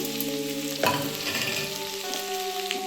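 Ginger paste hits a hot pan of fried potatoes for a vegetarian cauliflower curry, setting off a sudden burst of sizzling that settles into a steady fry, with music playing underneath.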